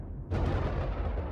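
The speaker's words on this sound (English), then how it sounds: "Flashbang." A flashbang explosion in the video game Aethermancer, a sudden loud booming burst that hits after a brief quieter lead-in and rumbles on briefly.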